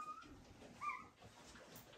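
An American Bully dog in labor gives faint, short, high-pitched whimpers and whines, soft and close against a quiet room.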